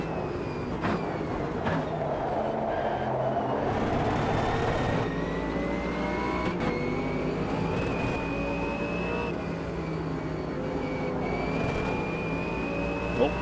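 A BMW GT race car engine in the sim racing game Automobilista 2 drones loudly and steadily, its pitch climbing slowly through long gears on a straight, with other cars droning around it.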